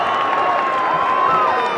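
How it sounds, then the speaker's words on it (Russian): Football fans in a stadium roar and cheer after an equalising goal, a dense continuous crowd din with a commentator's voice running faintly through it. "Болельщики в восторге"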